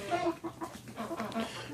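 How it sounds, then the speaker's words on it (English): Farm chickens being raised for meat and eggs cluck in a steady, close run of short calls, with no talk over them. "So I got chickens right now."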